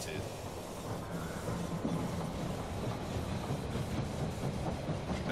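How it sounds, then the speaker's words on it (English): A train rolling into the station in the strategy game They Are Billions, a steady low rumble with faint rhythmic clatter, sitting under an ongoing game backdrop. "Train was arrived at the station."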